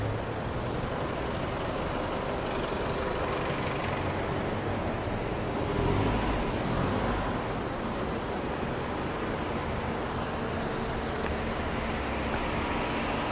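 Steady roadway roar of passing cars and buses fills a city street during a road crossing, a dense continuous wash with one vehicle swelling slightly louder midway.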